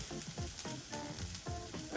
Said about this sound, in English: And you'll see it start sizzling up.